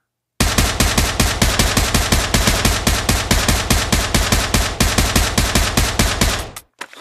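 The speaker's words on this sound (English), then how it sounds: "let's go with single fire. And I'll go for some headshots here" Single-fire gunshots from a firearm in the VR game Pavlov Shack: a loud, steady, rapid string of about forty evenly spaced close shots, ending abruptly with a couple of faint clicks.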